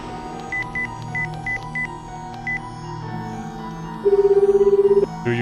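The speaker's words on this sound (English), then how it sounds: "I called Rumi's phone number." A phone number is dialed in the visual novel game Chaos;Head Noah: a quick series of short, loud keypad tones, then a long steady ringback-style tone and a brief final beep.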